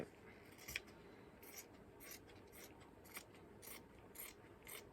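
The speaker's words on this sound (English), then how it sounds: "open one of the seams and just cut down there" Scissors snipping along the seam of a fabric pillowcase, a series of quiet, regular cuts spaced about half a second apart, close up with no talking.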